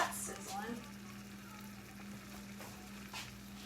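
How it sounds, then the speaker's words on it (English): Sausage taquitos frying in hot oil in a pan give a steady, close crackling sizzle with no pauses, and a low hum runs underneath. "That's sizzling."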